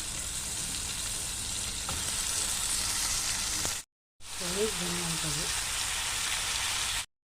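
Tomato frying in hot oil in a pan, a continuous close hiss of sizzling that briefly cuts out mid-clip and resumes, with a faint voice murmuring under it for a moment.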